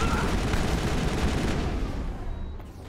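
A dense burst of automatic weapon fire from the video game Mass Effect rattles loudly and continuously, then fades out toward the end.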